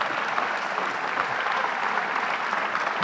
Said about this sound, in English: Let's give a big round of applause to Howard Zemsky.